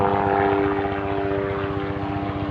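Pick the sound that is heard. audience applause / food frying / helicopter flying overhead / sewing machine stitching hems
helicopter flying overhead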